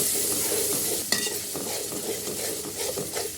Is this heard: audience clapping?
no